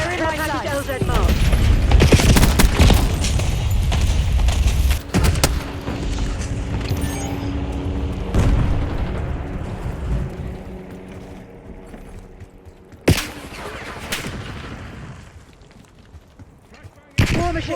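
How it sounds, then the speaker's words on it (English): Napalm strike explosions in the video game Black Ops 6 during a team deathmatch, heavy booming blasts rolling continuously for several seconds, followed by scattered sharp bangs and quieter rumble, with radio-style game voices talking over it. "Release napalm strike on my mark."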